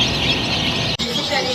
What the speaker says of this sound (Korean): 부화장 기계 속에서 깨어난 병아리들.